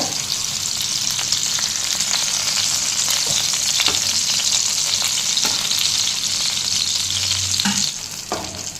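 Goat brain fries in a hot pan with a steady, close, continuous sizzle and crackle, broken by a few sharp stirring clicks, then easing slightly near the end. No one speaks.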